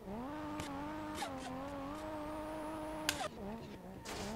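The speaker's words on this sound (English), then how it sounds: "It actually sounds like a super engine," Car engine in the video game Street Legal Racing Redline, sounding like a 2JZ-GTE, drones steadily at high revs during a drift run, dipping briefly at gear changes, with a few sharp transient noises on top.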